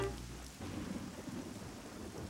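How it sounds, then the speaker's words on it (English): Rain falls in a thunderstorm, with a deep rumble of thunder at the start giving way to the steady hiss and patter of rain. "it seemed like it had been raining for weeks."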